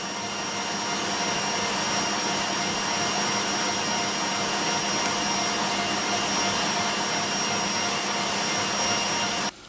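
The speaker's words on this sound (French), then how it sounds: "Donc je vais fouetter encore un petit peu." An electric whisk whips cream with vanilla seeds and icing sugar for a strawberry pavlova, giving a steady, loud, continuous motor whine with a high tone that holds evenly for nearly ten seconds before cutting off abruptly.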